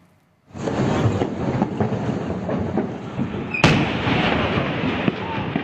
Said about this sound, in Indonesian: Ledakan yang terjadi berkali-kali di dalam gudang yang terbakar